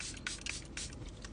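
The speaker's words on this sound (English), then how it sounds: "I'm just going to use some setting spray today as a primer." Setting spray hisses onto a face from close range, a steady broadband misting with a few slightly stronger bursts, used as a makeup primer.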